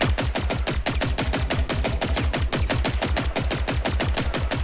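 Sustained automatic weapon fire from the video game Generation Zero, a long unbroken string of fast, regular shots that stays loud and near throughout, with no voices.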